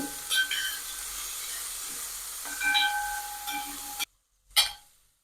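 Carrot and onion sauté in coconut oil for an Onam sadya thoran, a steady close sizzle and hiss with brief stirring scrapes, broken by a short silence and then a final burst of frying.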